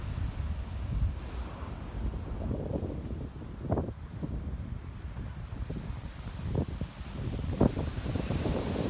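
Ocean waves crash and wash steadily on a Florida beach at sunset, a continuous rumbling surf with a few brief louder breaks, mixed with some wind noise and no voices.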